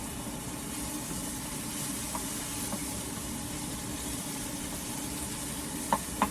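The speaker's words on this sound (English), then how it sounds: "I'm cooking dinner now, and we're going to have spaghetti with chopped tomatoes, sliced peppers, a sliced shallot, some chopped sun-dried tomatoes" Spaghetti dinner with chopped tomatoes, sliced peppers, shallot and sun-dried tomatoes cooks in a pan, giving a steady low sizzle and bubbling hiss throughout, with a couple of small utensil clinks near the end.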